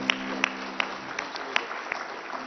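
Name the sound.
audience applause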